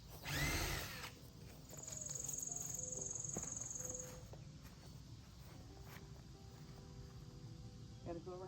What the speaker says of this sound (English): he has to drill a hole for the screw to catch